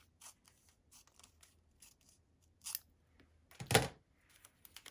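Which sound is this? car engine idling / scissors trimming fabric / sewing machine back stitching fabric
scissors trimming fabric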